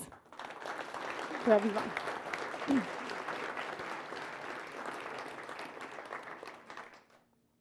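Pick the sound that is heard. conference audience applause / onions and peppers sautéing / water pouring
conference audience applause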